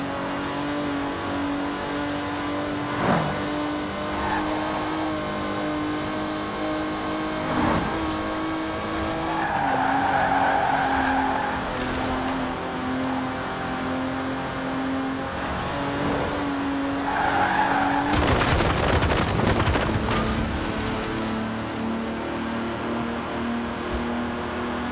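A 1960s Aston Martin DB5 Vantage grand tourer with side-draft carburettors races in Forza Horizon 4, its engine droning and rising through gear changes while tyres squeal and skid in several loud bursts.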